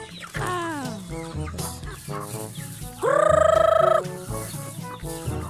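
A flock of seventeen native chickens clucks and calls nearby, with repeated short clucks and one louder, sustained squawk in the middle, and no talking.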